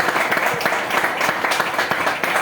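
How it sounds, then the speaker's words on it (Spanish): An audience applauds the team at the final episode of the cooking show Detrás del Delantal, a lively crowd clapping with distinct, closely spaced claps that stays fairly loud and steady throughout. "quiero que les den un aplauso también para ellos, por favor"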